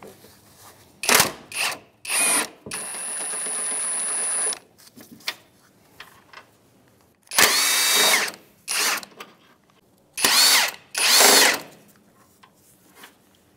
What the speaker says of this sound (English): We're gonna use an impact gun with a swivel on it.